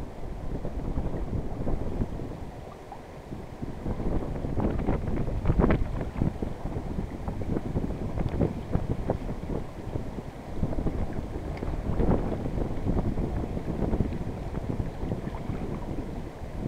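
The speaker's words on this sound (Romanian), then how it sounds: "Să știți că vântul este foarte puternic" Strong wind buffets the microphone in heavy rumbling gusts beside the Siret River while fishing, rising and falling with no other clear sounds.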